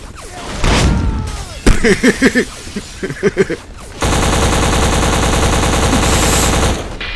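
Machine gun bursts from the shooter game Black, loud and close: short clusters of rapid shots, then a long sustained stream of automatic fire lasting several seconds alongside other battle noise.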